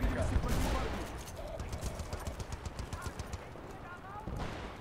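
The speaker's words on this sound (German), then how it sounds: "Bam! Der erste Headshot." Gunfire in Battlefield: Bad Company 2, a rapid run of regular automatic shots over a dense battle din, with a voice talking over parts of it.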